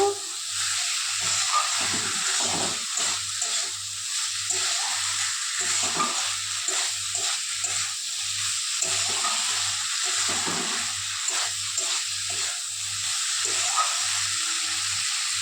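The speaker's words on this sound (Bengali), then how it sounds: "এবার দিয়ে দেবো ভেজে রাখা ফুলকপি আলু। নাড়বো চাড়বো।" Fried cauliflower and potatoes stirred into a spice masala in a pan give a continuous close sizzle and hiss, with repeated scraping strokes and a faint rhythmic hum underneath.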